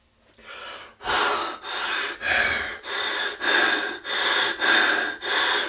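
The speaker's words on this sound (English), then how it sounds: "Breathing. Breathing. It's something everyone does." Heavy, rhythmic breathing with sharp gasps, about eight loud, close breaths in steady succession after a brief quiet start, with no talking.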